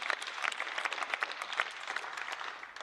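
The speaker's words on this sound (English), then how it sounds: "Michel Barnier, who I want to applaud here for all the work he has done" Steady applause fills a European Parliament chamber, many hands clapping at once in a dense, even patter that holds for the whole stretch before tapering slightly.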